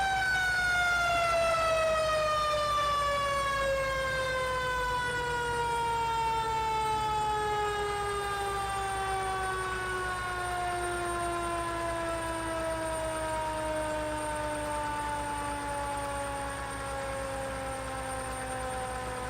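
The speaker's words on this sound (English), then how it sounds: "Why is the engine sound going down?" An emergency services vehicle in Farming Simulator 19 sounds a steady, loud tone whose pitch slowly glides downward over about twenty seconds, with no talk over it.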